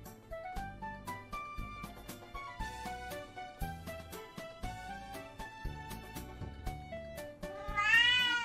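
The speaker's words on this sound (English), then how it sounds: "Do you love us in return? Meow, if you do." A cat's meow rises near the end over a continuous game soundtrack of plucked, melodic notes that fills the whole stretch.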